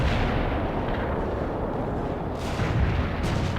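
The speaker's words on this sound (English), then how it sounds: "I think that's the Berlin Wall being destroyed." A continuous roar of explosions and heavy artillery-like booming fills the World in Conflict Soviet Assault scene as the Berlin Wall is destroyed, loud and sustained with a sharper burst near the end.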